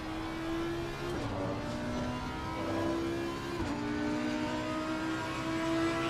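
An Audi GT3 race car in the sim racing game Assetto Corsa Competizione, on Hungaroring, drones steadily with a high engine note, its pitch sliding through shifts, revving continuously without any talk.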